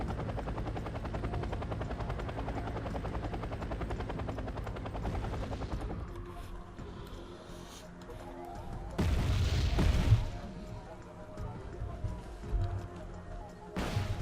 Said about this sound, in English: Recon helicopter I was talking about earlier, with 16 Hellfires underneath its rings.